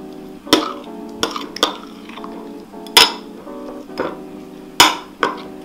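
Metal spoon clinking and scraping against a bowl or pan while garlic, green pepper, black and white pepper and salt are mixed into a seasoning for pan-fried fish, sharp irregular clinks spaced through a quiet kitchen.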